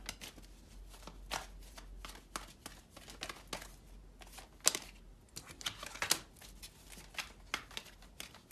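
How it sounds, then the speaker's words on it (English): Tarot cards are shuffled and riffled close by in a quiet room, making a continuous patter of soft flicks and snaps with scattered sharper slaps. "let's get a few cards out."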